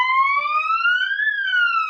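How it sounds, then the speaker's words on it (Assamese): Ambulance siren carrying an emergency patient, a loud, clear electronic wail that sweeps slowly upward and then dips, heard alone without talk. "এইটো চাইৰেন শুনিছে"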